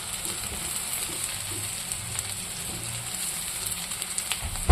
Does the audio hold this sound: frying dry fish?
yes